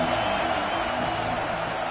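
A loud stadium crowd at an LSU football game keeps up a steady, dense roar, a constant wash of voices and cheering with no pause.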